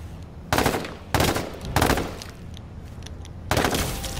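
Gunfire in the video game H1Z1: four loud bursts of rapid shots come in quick succession, each a short rattling volley separated by brief pauses; no talking.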